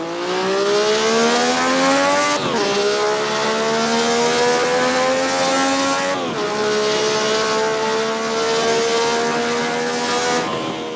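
Race car engine in a racing video game, a steady loud whine with harmonics climbing through the gears, dropping sharply at two gear shifts around 2.5 and 6.3 seconds, then climbing again.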